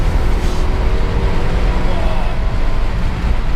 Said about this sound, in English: there's nothing quite like a bit of old school turbo, is there?